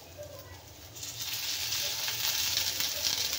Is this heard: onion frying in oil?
yes